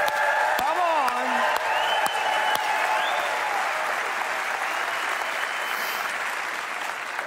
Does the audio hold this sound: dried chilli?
no